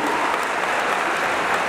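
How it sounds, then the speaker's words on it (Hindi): Steady, dense applause from a large audience at a spiritual gathering with a guru on stage in Dubai, a continuous wash of many hands clapping with no pauses and no talk over it. "आप सभी को इनके लिए खूब तालियां बजानी चाहिए"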